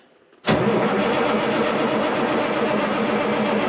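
A K100 truck engine on a chilly day cranks and catches abruptly after a quiet moment, then holds a loud, steady rumbling idle close by.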